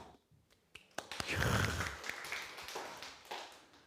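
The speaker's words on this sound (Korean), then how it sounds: "박수." A church congregation breaks into clapping during a sermon: a few scattered claps build into a sustained, moderately loud wash of applause that carries on to the end.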